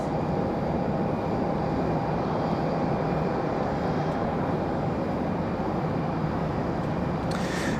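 A United Airbus A319 jet rolls for departure at Raleigh-Durham International Airport, a steady loud broadband engine roar that holds constant throughout with no voices.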